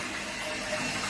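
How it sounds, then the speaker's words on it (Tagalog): Hotel bathroom toilet flushing, a steady close rush of water filling the bowl for the whole moment. "Tingnan natin kung maganda ang flush mo."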